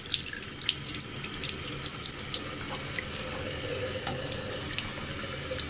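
Water runs steadily from a sink tap as a makeup brush is about to be cleaned, a constant close hiss with small splashes and no voices.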